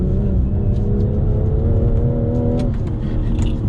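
A BMW M240i's B58 engine is driven hard, giving a loud, steady droning rumble from inside the cabin that rises in pitch with the revs, then dips briefly near the end, with no voices.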